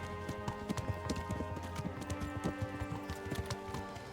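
Horse hooves clip-clop steadily in the video game Kingdom Come: Deliverance, a brisk, even trot against a low ambient hum, moderately close.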